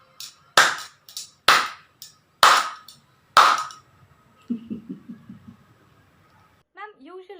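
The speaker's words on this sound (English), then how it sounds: "So slow claps for them." Four loud, slow, evenly spaced hand claps ring out one by one in an interview setting, followed by softer talking.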